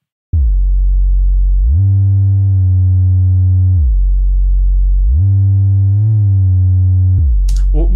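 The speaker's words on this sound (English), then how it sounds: "It's a cool little deep-ish bass loop." A deep, smooth synth bass plays a slow loop of sustained low notes, rising and falling in pitch, loud and close with no other sounds.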